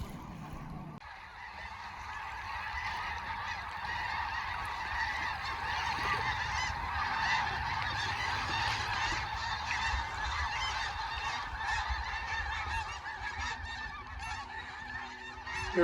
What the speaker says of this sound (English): Here we have hundreds of snow geese going over.